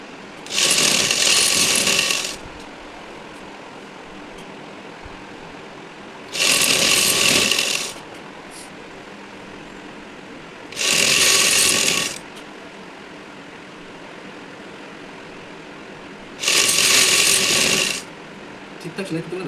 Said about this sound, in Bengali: একটা সাইড সেলাই করে নিলাম, ঠিক সেম উল্টো দিকটাও সেলাই করে নেবো।